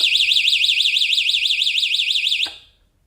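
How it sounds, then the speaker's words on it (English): A loud electronic elevator alarm bell warbles steadily in a fast wavering tone for about two and a half seconds, then cuts off with a click. "With a really annoying alarm bell."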